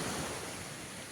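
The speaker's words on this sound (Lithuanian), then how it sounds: "džiaugiasi bangomis" Sea waves washing onto a beach at a Black Sea resort near Balchik, heard as a steady broadband wash of surf with some wind noise, continuous and fairly even throughout.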